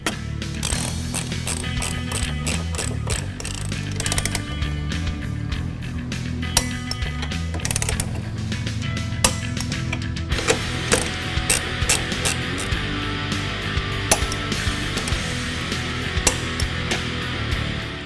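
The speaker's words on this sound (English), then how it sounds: "the last step on this side to tighten these three nuts to 46 foot-pound" Ratchet wrench tightening three nuts on the front suspension of a 2015-2022 Ford Mustang during a lowering spring install, a steady run of fast clicking, close and loud, alone without talk.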